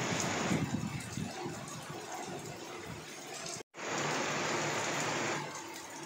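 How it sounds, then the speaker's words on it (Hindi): Rain falls in a steady, dense hiss outdoors, a continuous close wash of sound with one brief break. "बारिश हो रही है"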